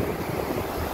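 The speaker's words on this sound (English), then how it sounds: "Enjoy the waves." Ocean surf at Long Beach makes a steady, close, full rushing roar with no voices over it.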